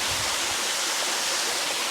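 A waterfall at Hazelbrook roars as a steady, dense rush of falling water with spray, loud and continuous, with no voices.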